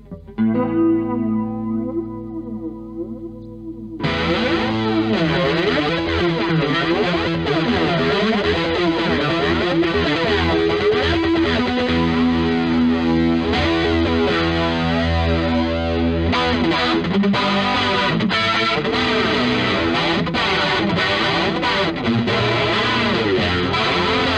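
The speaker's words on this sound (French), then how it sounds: "C'est un phaser, un flanger, pardon." An electric guitar plays through a Walrus Audio flanger pedal with distortion, a whooshing, jet-like swirl moving through the chords, loud and continuous.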